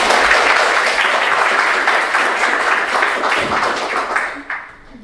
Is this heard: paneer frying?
no